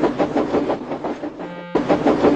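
Rapid rhythmic chuffing of an animated steam engine puffing away, loud and close, with a brief sustained whistle-like tone midway before the chugging resumes.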